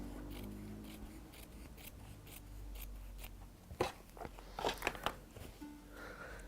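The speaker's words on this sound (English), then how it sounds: "I'm just going to cut this piece off" Scissors snip through a piece of fabric in a quiet sewing workshop, a short burst of crisp cuts arriving after a few seconds of near silence, with no talking.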